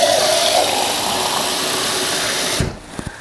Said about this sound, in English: I would add a little bit more water maybe.